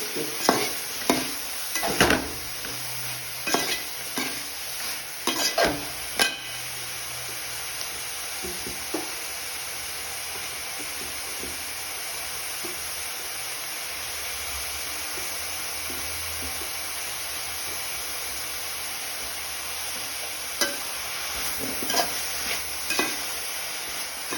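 A spatula stirs a spinach and jackfruit seed stir-fry in a pan, with loud scraping strokes clustered at the start and again near the end over a steady sizzle that runs the whole time.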